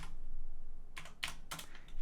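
Computer keyboard typing, a few quick clustered keystrokes close by over a steady background hum, no speech.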